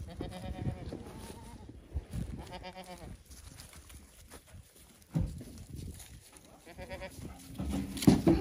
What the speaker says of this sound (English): Here's the goat crew.